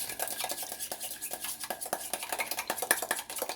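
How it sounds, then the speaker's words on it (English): Egg yolk being beaten in a bowl, a rapid run of close clicking whisk or fork strikes against the bowl's side, quick and uneven in rhythm, heard alone. "First we're gonna beat this egg yolk up first"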